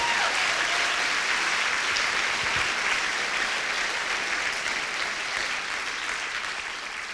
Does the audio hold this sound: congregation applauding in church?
yes